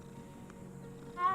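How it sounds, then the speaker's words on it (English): A grey cat in Hogwarts Legacy gives a single short meow near the end after a quiet low hum, close and fairly clear, with no voices. "Oh, there's a cat."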